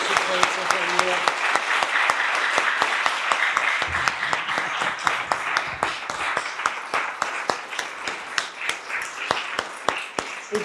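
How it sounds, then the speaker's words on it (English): A church congregation applauds Miss Susan at a Children's Sunday service, a full, continuous round of clapping with sharp individual claps standing out; a voice murmurs briefly beneath it early on. "let's give a wonderful round of applause for Miss Susan and the wonderful program that she creates every year"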